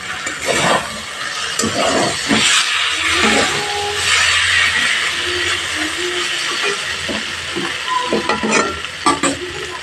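A mix of five vegetables fries in a pan as it is stirred. Loud sizzling runs throughout with repeated scraping stir strokes and a low hum underneath, all close up.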